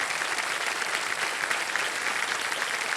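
A TV quiz show studio audience claps for a contestant, giving steady, dense applause throughout with no gaps. The crowd sounds close and fairly loud, and no voices come through.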